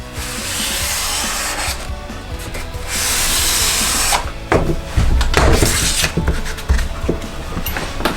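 A Mora Companion knife sharpened on sandpaper laid over a board, with close, loud rasping strokes in long sustained passes, then shorter, choppier scrapes.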